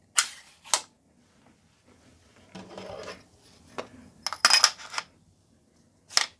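Brad nails being loaded into a Flex 24V brushless 18-gauge brad nailer: several sharp metallic clicks and snaps with a short scraping slide in between, close and alone with no talk.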